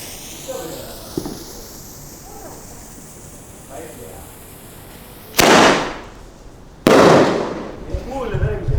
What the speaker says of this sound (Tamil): இது ஒரு வெடி தான், ஆனால் மேலே பூ வராது. ஒரே வெடி தான்.